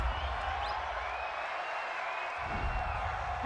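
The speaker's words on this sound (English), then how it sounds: "This home crowd, they're happy with that call." Home football crowd in a stadium during an NFL game between the Arizona Cardinals and Los Angeles Rams cheers a penalty flag, a steady distant roar with scattered whoops.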